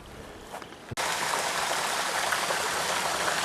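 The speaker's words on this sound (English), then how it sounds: "Water siphons out from above somewhere and through this blue pipe into this rice paddy." Water siphoned from above runs through a blue pipe into a rice paddy along the Nakasendo road near Magome, Japan, a steady close trickling stream that cuts in abruptly after a brief quieter start and continues alone.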